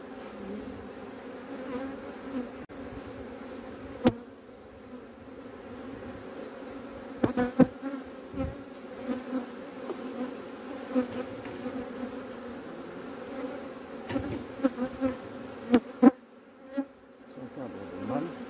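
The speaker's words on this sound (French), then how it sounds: "On va secouer un peu les abeilles" Honey bees buzz loudly around an opened hive as a frame is shaken, a continuous close drone with sudden swells and sharp bumps from the frame handling.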